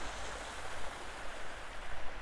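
A waterfall in France pours steadily, a soft even broadband rush of falling water heard from a short distance, faint and unbroken with no voices.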